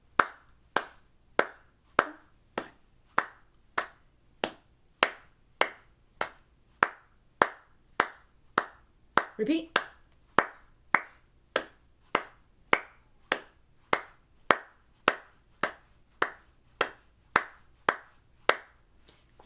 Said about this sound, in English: we're both going to clap the bottom part. The clapping is the same from our exercise 45. It's just clapping to the beat.